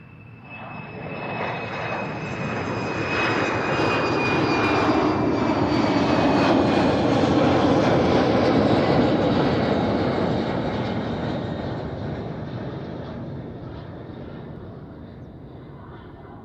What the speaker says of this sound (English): There he is, American Airlines, coming our way.